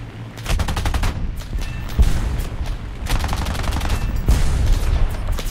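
Fifty-calibre machine guns fire from a CR.32 fighter plane in War Thunder, with several rapid, loud bursts of heavy rattling gunfire over a steady engine drone.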